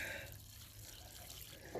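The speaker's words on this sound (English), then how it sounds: "Just water it gently. Just let it soak right in that area." Water gently poured onto garden plants, a soft steady trickle and splash soaking into one spot of soil, fairly quiet and continuous with no talking.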